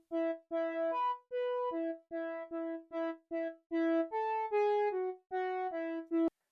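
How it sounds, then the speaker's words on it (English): An atmospheric arpeggiated pluck patch from Logic's Retro Synth plays a clean, dry sequence of short tonal notes in a steady rhythm, each with a quick attack and brief decay, moderately quiet with small gaps between phrases. "this atmospheric ARP, or you might could call it like a pluck"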